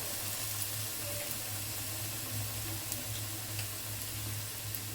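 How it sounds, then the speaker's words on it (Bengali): Battered eggplant slices fry in hot oil, making a soft, even, continuous sizzle that holds steady throughout at a low level, with no voices. "বেসনের মধ্যে চুবিয়ে এরপর বেগুনটা কেটে রাখা বেগুনটা দিয়ে দিলাম চুলায় তেলের মধ্যে"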